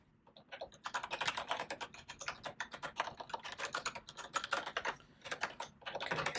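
Rapid, steady clatter of keys on a computer keyboard as code for a smart contract is typed, with short bursts and brief pauses throughout, close and clear with no talking.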